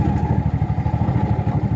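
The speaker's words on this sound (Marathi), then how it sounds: "थोडीशी गाडी पुढे घेतो तुम्हाला आता दिसेल बंगला" A motorcycle engine running at low speed as the bike is eased forward, a steady loud rhythmic chugging throb close by, with no talk.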